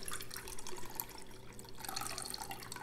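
Hot brine for refrigerator-pickled sweet and spicy banana peppers is poured into a pot, a continuous, faint splashing trickle of liquid lasting a few seconds.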